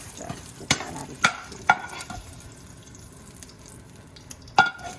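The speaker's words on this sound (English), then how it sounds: "now we're going to take our bacon out with a slotted spoon, so you leave the grease in there" Bacon being scooped out of hot grease with a slotted spoon while the pan keeps up a soft sizzle; several sharp metallic scrapes and clinks of the spoon stand out, spaced irregularly, close and fairly quiet, with no talking.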